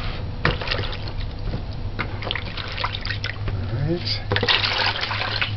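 Oranges rinsed under a running kitchen tap, with a steady trickle and splash of water throughout and a brief spoken word over it.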